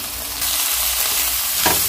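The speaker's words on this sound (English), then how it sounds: "I'm just gonna allow this to saute before I add in my dry seasonings and chickpeas" Seasoned peppers with fresh parsley and cilantro sauté in a hot pan, giving a steady, close, bright sizzle with a brief stirring rustle near the end.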